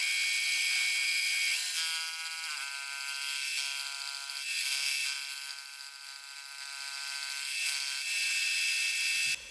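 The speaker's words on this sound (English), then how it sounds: "Now to cut the teeth, I previously made up this cutter and holder" A milling machine's single point cutter cuts timing belt teeth, giving a steady, loud, high-pitched mechanical whine that swells and dips slightly, heard close with no talking.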